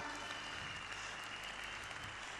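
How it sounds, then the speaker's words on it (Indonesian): Audience applause at a seminar event, a continuous, even patter of many hands heard at a low level, somewhat distant, with no talking on top. "Berikan tepuk tangan buat meriah buat beliau."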